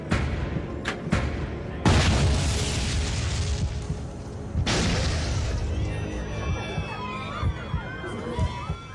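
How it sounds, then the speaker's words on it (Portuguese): Two explosions shake an airliner in a re-enacted uncontrollable crash in Japan: two heavy booms a few seconds apart, each followed by a sustained roaring rumble. "Duas explosões sacodem o avião."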